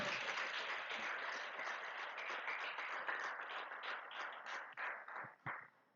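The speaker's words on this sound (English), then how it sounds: "can we hear a huge round of applause for all the contestants, best orators?" Sustained applause from an audience at an orator contest final, honoring the contestants: dense, steady clapping that fades into scattered claps near the end.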